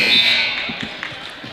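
A buzzer ends the first half of a Nekoosa vs Auburndale boys' basketball game, a short, loud electronic blare that cuts off quickly, leaving scattered ball bounces and gym voices.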